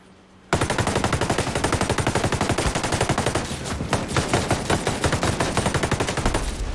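A mounted machine gun turret in the shooter game Ghost Recon Breakpoint opens up after a brief pause, then pours out a loud, sustained burst of rapid, evenly spaced shots.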